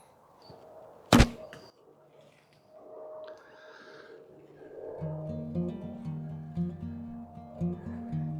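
An arrow loosed from a traditional bow strikes a target with one sharp, close thunk, followed by low outdoor murmurs and distant tonal sounds that build toward the end.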